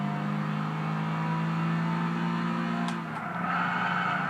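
Honda NSX engine in Gran Turismo 6 holding a steady, loud drone with harmonic bands, dipping briefly as if shifting gear before rising again, continuous throughout.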